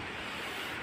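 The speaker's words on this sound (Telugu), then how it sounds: "చూసారా వాటర్ సౌండ్, అది ఎంత బాగుందో కదా." Flowing water at a spot for gathering snails, a steady broadband rush like running stream or surf, continuous and fairly faint with no talk over it.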